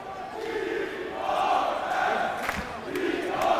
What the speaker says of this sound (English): The DRS chants ring out from the crowd